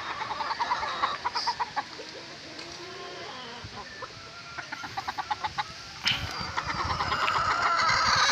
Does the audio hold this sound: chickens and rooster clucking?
yes